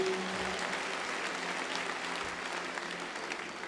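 A crowd at an outdoor gathering claps for the Nairobi governor, a steady, dense, moderately faint wash of applause that holds throughout with no talking over it.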